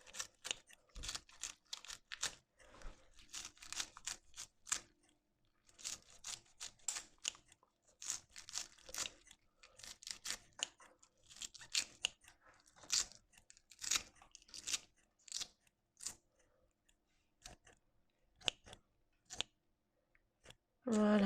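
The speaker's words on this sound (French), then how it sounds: "je les coupe au ciseau." Scissors snip through spinach leaves and stems as they are chopped small for a vegetarian autumn couscous, a rapid run of crisp, close cutting clicks in irregular bursts across the whole stretch.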